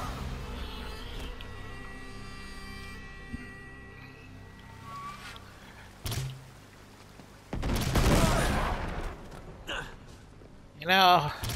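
Gunfire in Uncharted 3: Drake's Deception, with scattered shots and a loud sustained burst of fire partway through, followed by another sharp volley near the end; someone talks and exclaims over it.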